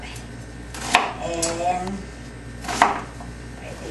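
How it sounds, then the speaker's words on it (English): A kitchen knife chops an onion for a Thai massaman chicken curry: two or three sharp, close cuts on a board, with a brief voice between them. "We cut the onion like this."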